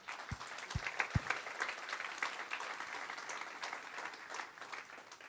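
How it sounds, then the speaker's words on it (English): Audience at a tech conference keynote breaks into applause, a broad even wash of many hands clapping at moderate distance, with a few low thumps near the start. "that kind of effort always needs a round of applause, so let's thank them."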